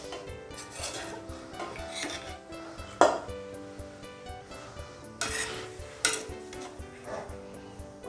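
Hyderabadi mutton biryani is scooped from a pot into a serving bowl, with soft scraping and stirring, occasional louder clinks of a spoon against metal and brief rustling bursts.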